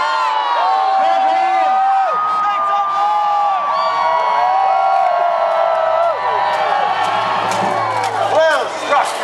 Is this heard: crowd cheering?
yes